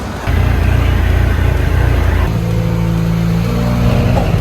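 A Toyota AE86 with a 4A-GE engine fires up for the first time and revs loudly and steadily, then settles to a high, even idle with a lower drone.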